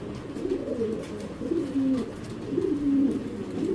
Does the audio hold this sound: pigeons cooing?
yes